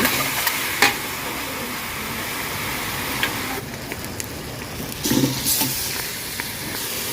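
Garlic, coriander root and pepper are stir-fried in a pan for braised eggs, an even loud sizzle running throughout with occasional clinks and scrapes of a spatula against the pan, no talking.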